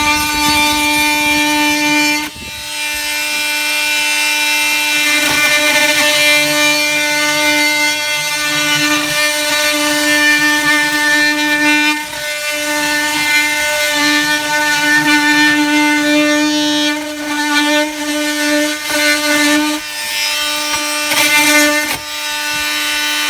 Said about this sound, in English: I need to cut this corner out, so I'm going to do that with a multi-tool.